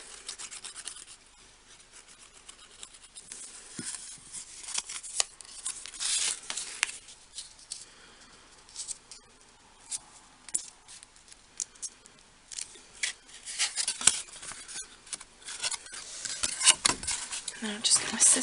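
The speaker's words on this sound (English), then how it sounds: "Now I'll just get my scissors," Scissors snip and trim paper card for a handmade baby girl dresser card, giving repeated close, crisp cutting strokes in irregular bursts, with rustling and handling of the paper in between.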